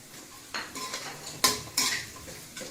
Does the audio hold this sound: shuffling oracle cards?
no